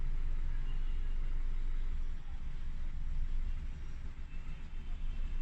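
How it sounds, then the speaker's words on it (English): A car's four-cylinder engine runs rough with cylinder 1 cut out during a misfire test, giving a steady low rumble with uneven dips in level and faint talk in the background. "So you can notice the car is running rougher. I've dropped cylinder 1."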